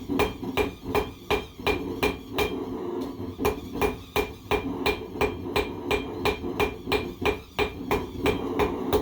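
Steady, ringing hammer blows on an anvil while an iron wall hook is forged, about three strikes per second with metallic overtones, close and loud, no talk.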